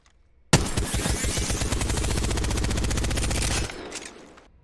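Rapid automatic-style gunfire from a weapon tap-fired as fast as possible in Apex Legends, a dense steady stream of loud close shots lasting about three seconds, then cutting off into a brief tail.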